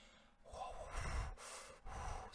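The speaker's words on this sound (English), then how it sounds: "Did you hear that breathing?" Heavy breathing sounds close by outside a camping tent in the dark, a few loud drawn breaths and snort-like gasps separated by short pauses.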